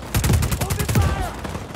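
Rapid bursts of gunfire ring out in the video game Just Cause 4, a dense run of loud overlapping shots through the first second that thins into scattered rounds with a faint voice underneath.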